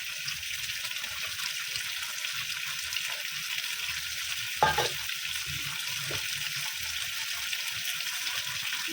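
Pabda fish frying with onion, garlic, black cumin and chilli in mustard oil, a steady soft hiss of frying with a brief louder stir or clink midway.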